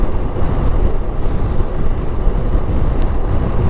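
Honda motorcycle cruising in sixth gear at 49 mph, a loud continuous low engine drone mixed with heavy wind rush over the microphone, steady throughout.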